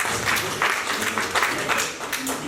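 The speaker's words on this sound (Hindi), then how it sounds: "एक बार जोरदार तालियां।" Audience applause at a Hindi poetry gathering, steady broadband clapping filling the whole moment at close range with no break, a dense wash of many hands.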